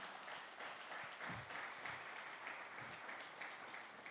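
A church congregation applauding during a family service, a faint, even patter of clapping from many hands that continues without a break.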